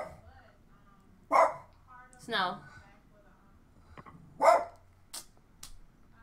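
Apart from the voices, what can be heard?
dogs barking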